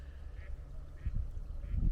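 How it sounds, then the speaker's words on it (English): Faint duck quacks repeat three times at a steady pace, distant and soft over low background rumble, by the River Lee. "So peaceful, listening to the birds"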